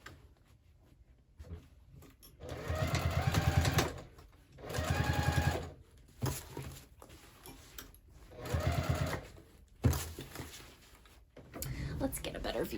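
A home sewing machine stitches a handbag from the lining side, running in four separate bursts of a few seconds each, separated by pauses with soft handling noises and occasional speech.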